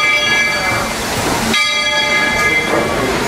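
A steam locomotive bell on the Walt Disney World Railroad's "Walter E. Disney" engine rings steadily with a sustained metallic clang over rumbling train noise, fairly close.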